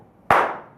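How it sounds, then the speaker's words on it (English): A single sharp hand clap rings out close and loud, its burst decaying quickly into a short room echo. "So once you clap"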